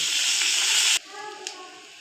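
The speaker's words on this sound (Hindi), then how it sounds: "जीरा और प्याज का तड़का लगा रहे ऊपर से" A loud hissing sizzle of cumin and onion tempering for chana dal fills the first second, then cuts off sharply, leaving quieter crackling and faint background sound.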